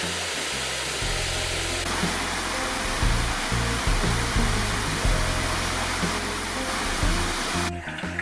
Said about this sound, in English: This is a waterfall in the forest.